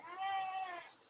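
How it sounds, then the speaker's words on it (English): A house cat gives one drawn-out meow, clear and fairly close, rising and then trailing off, with no talking over it. "all he wants to do is meow at me all day"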